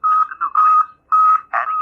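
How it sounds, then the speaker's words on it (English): Electronic alarm in a radio drama, sounding in short bursts of a shrill warbling tone with brief gaps between them, loud and close with no voices over it. "Precisely at 8, the sidereal alarm went off."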